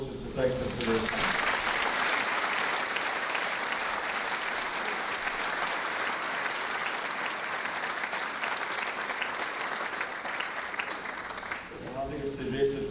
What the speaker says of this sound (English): Can we join in applause just to thank them for their time?